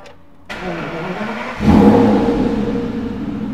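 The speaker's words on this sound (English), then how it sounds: "I'll just fire the car up" A 2013 Aston Martin V12 Vantage with a manual gearbox is started, with a short starter whir and then the V12 catching with a loud rev before settling into a deep, steady idle close by.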